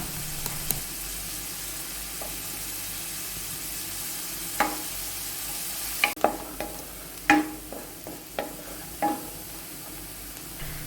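Salted sliced onions sauté softly in a pan for a bread snack, a faint steady sizzle broken by a few sharp clinks and scrapes of a spoon stirring near the end.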